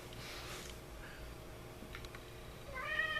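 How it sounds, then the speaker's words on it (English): A cat gives a faint meow or two over a soft, steady background hiss, quiet and close by. "My cat."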